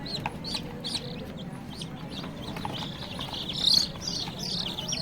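Young poultry chicks on a farm peep and chirp in a steady, busy chorus over a low background hum, with a louder burst of high calls near the end.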